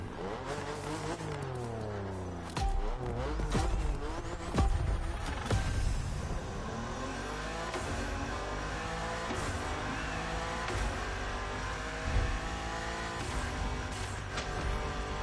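Racing car engine in The Crew Motorfest revving and shifting through gears, with rising and falling engine tones, occasional tire squeal and impacts, loud and continuous throughout.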